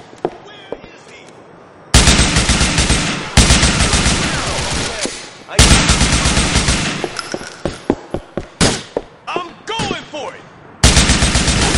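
Bursts of loud, close gunfire in Grand Theft Auto IV, with rapid automatic volleys and single sharp shots that start and stop abruptly, separated by brief quieter gaps.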